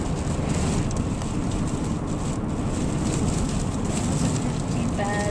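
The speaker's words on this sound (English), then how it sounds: "Man, this wind is crazy." Strong storm wind in Utah buffets and roars continuously, close and loud, with broadband gusting noise across the whole stretch, sounding like wind hitting the microphone.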